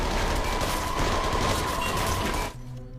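Gunfire rings out as the remaining players are shot in a film scene, a dense, continuous barrage of rapid shots at high volume that cuts off sharply near the end, leaving a low rumble.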